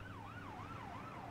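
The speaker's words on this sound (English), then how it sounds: "That's a fast police car." A police car siren from the Cities Skylines video game wails in smooth rising and falling sweeps, faint and distant over a low steady hum.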